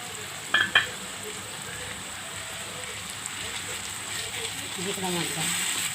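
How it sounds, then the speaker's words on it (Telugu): Ginger garlic paste fries with onions in a pan, a steady close sizzle with a couple of sharp clatters early on. "ఇప్పుడు అందులో అల్లం వెల్లుల్లిపేస్ట్ వేస్తున్నాను చూడండి."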